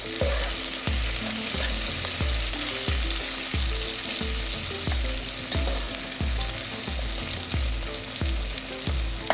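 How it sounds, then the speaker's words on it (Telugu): Garlic pieces frying in oil until light brown for a Telangana mutton curry, giving a dense, steady sizzle with a regular rhythmic knocking of a spoon stirring against the pan, close and continuous. "ఈ వెల్లిపాయ ముక్కలను కూడా ఇందులో వేసుకోవాలి బ్రౌన్ కలర్ వచ్చే వరకు"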